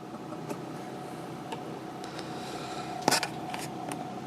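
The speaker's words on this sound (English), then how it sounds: "You can hear there's a bit of motor noise, unfortunately." A 1957 Pil'Eden model 25 portable record player, made in France, gives off a steady low motor hum with a faint whine, close and quiet, broken by a few small ticks and one brief louder click near the end.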